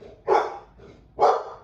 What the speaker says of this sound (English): my dog heard somebody outside.